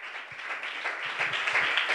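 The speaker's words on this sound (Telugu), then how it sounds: "గట్టిగా చప్పట్లు కొట్టండి సార్ దేవునికి" A congregation at a fasting prayer meeting claps together in a steady wash of applause that continues without a break, heard from within the crowd.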